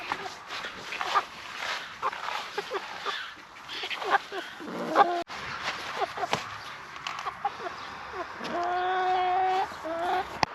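Chickens in a coop built from old pallets cluck and squawk steadily, close by, with a few sharper calls and a sustained squawk toward the end; no one speaks.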